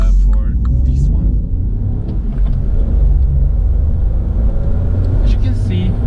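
A 2019 Mini Cooper three-door hatch with a 1.5-liter 136-horsepower engine gives a steady, loud, low rumble throughout, and a voice talks over it.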